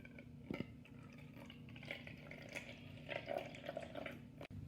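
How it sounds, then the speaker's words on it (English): Six cups of water poured into a big mixing bowl, a soft continuous splashing and trickling that swells toward the end, fairly quiet and close, with no talking. "we poured out our 6 cups of water, and we're going to put them in the big mixing bowl"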